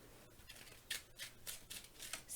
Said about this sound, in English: All right, I'm just going to shuffle.